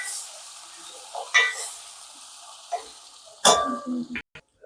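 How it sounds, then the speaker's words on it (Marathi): Onion frying and sizzling in oil in a pan, with a close hiss and several spatula scrapes and clatters against the pan. The sound cuts out briefly near the end, and there is no talk. "कांदा टाकून घेते त्याला परतून घेते छान बघा कसं तेल उडते"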